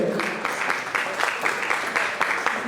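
Applause from an event audience as a trophy is collected on behalf of Décor Ilonga, a steady wash of clapping lasting throughout, moderately loud with faint talk mixed in.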